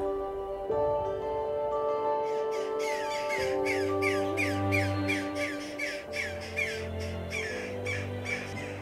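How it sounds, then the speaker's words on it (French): Many young birds chattering and squawking high in a château tower, rapid repeated calls layered over a sustained tonal background, moderately near. "quand on écoute, il y a plein d'oiseaux qui jacassent"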